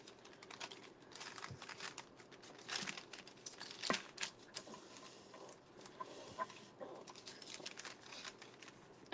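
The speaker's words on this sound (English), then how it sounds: "So I'm cutting close to the fold on the side." Card being cut with scissors close to the fold: soft, close snipping and crinkling paper sounds in irregular bursts, fairly quiet, with a few sharper clicks and no talk.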